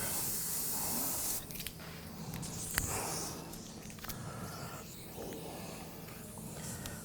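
An airbrush hisses steadily as it sprays paint onto a biomechanical skull, in a continuous close, loud stream that breaks into shorter bursts partway through.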